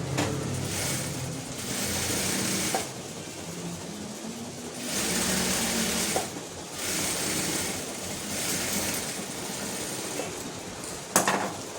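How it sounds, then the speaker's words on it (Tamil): A sewing machine stitches a blouse seam, its steady whirring running in several bursts of a few seconds each with short pauses between, close and fairly loud, with no talking. "இந்த பக்கமும் இன்னொரு தையல் போட்டுக்கணும்"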